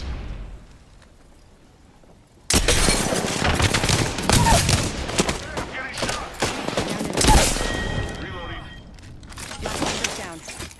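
Gunfire in the Apex Legends video game erupts after a quiet start, dense rapid shots and impacts rolling on loudly for several seconds with a voice speaking over it.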